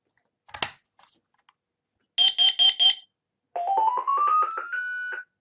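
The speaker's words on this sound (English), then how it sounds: "So my alarm unit did the acknowledgement tone" A Careium i10 alarm unit plays its acknowledgement tone while pairing a CO detector: a click, then four quick identical beeps, and finally a stepped rising tone sequence that ends on a held note, clear and close in a quiet room.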